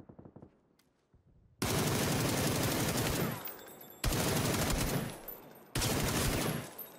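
Three long, loud bursts of automatic gunfire in PUBG, close and sustained, separated by short gaps after a quieter opening with faint movement sounds.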